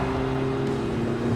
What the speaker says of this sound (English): the sounds of V8s, inline 6s, and turbos ringing off Ozark National Forest